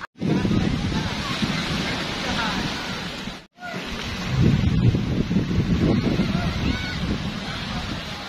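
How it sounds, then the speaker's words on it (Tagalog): Strong ocean waves surge at a beach in a continuous loud broadband wash with a brief break midway, while people talk faintly under the roar. "malakas pang alon."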